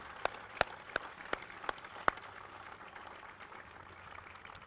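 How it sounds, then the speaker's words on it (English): A handful of sharp, scattered handclaps, about six, ring out in the first two seconds at a 101st Airborne Division ceremony at Fort Campbell, Kentucky, then give way to a quiet room murmur. The clapping is faint and sparse. "Please join me in another round of applause for everyone who has made this superb week a reality"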